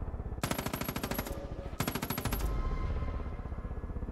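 Two loud bursts of rapid automatic gunfire in the video game Far Cry 5, each rattling off dense repeated shots for about a second, separated by a short pause, then trailing into game ambience.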